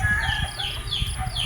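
Pet chickens, just bathed and cooling off, cluck and chirp in short uneven notes at close range, with soft thumps and rustling beneath.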